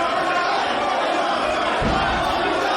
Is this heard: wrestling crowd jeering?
yes